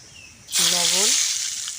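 Mustard oil with turmeric powder hitting a hot kadai before frying boiled eggs, a sudden loud hiss that bursts in and keeps sizzling steadily, with a brief voice-like warble at the start.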